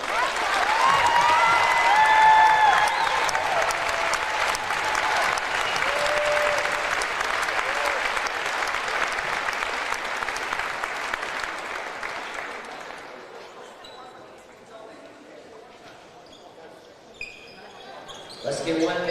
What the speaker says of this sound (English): let's give one more big round of applause for him